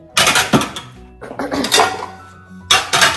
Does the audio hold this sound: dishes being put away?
yes